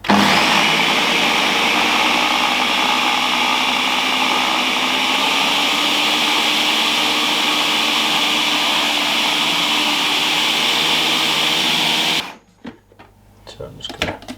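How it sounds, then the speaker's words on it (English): A kitchen blender purees prawns with a dash of sesame oil into a paste, roaring loud and steady for about twelve seconds before cutting off abruptly, followed by brief clatter. "Then the lid's going to go on and I'm just going to blend this up."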